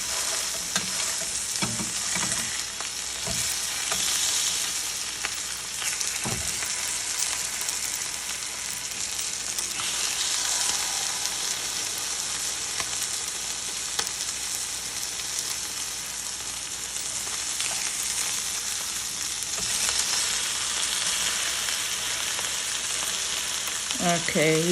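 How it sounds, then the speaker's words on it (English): Salmon fillets fry in a stovetop pan with a steady, close hiss of sizzling oil, broken by a few soft scrapes and taps as the fish is turned and pressed. "I'll go ahead and flip them again to the other side and just press down the edges so they can brown"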